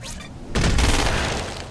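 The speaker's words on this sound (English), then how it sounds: "Use precision targeting to shoot the freak's head or legs." A gun fires at a freak in the video game Crackdown 2, one heavy booming shot close up that trails off into a long rumbling tail.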